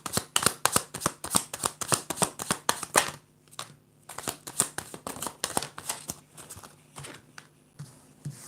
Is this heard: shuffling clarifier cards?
yes